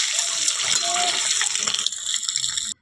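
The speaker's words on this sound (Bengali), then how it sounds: "তো এবার ডিমগুলো ভেজে নেব লাল করে।" Turmeric-coated eggs frying in hot oil give a loud, steady sizzle and crackle close by that cuts off abruptly at the end.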